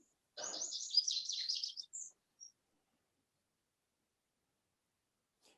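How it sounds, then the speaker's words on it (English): A bird twittering faintly in the background of a church service call's microphone: a quick burst of high chirps and trills lasting about two seconds, then a couple of short isolated chirps before silence. "I hear a bird twittering in the background of somebody's microphone"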